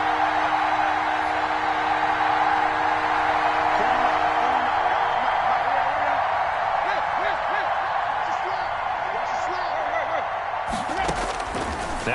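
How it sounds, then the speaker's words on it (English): Stadium crowd roar from an American football video game on PS4, a loud steady din running throughout, with an announcer's voice on top and a sharp burst of noise near the end. "That just means this crowd's going to get even louder"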